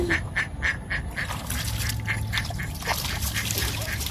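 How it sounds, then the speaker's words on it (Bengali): Ducks quack by a river in a village during the monsoon, a rapid series of nasal calls at first, then scattered quacks over steady outdoor background noise. "ওই যে হাঁস"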